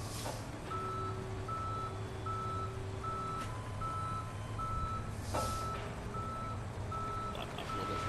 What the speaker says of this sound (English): Let the tow truck do its thing.